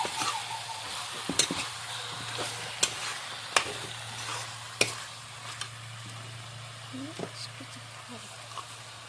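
Desi chicken curry frying in a pan while being stirred: a constant sizzle with a low hum underneath, punctuated by a series of sharp spoon knocks against the pan at irregular intervals.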